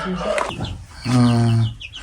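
A young rooster from Namangan gives a short cluck, then one brief, strained crow lasting about half a second, close and fairly loud.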